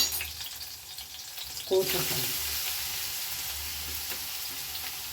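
Bread sizzles and fries in a pan for a bakery-style bread roast, with a sudden louder burst of sizzling and stirring partway through that then settles into a steady hiss, and a brief voice is heard.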